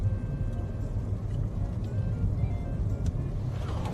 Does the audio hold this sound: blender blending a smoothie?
no